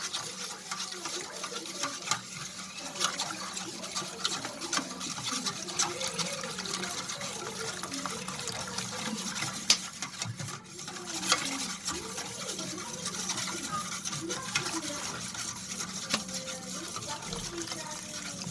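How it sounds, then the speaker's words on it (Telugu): Milk and jaggery stirred together in a pot for junnu, with a steady run of soft liquid swishing and scraping close by for the whole stretch, no voices over it. "ఇవి కొద్దిగా బెల్లం వేసుకుని ముందు పాలు బెల్లం కరిగేలాగా కలుపుకోవాలండి"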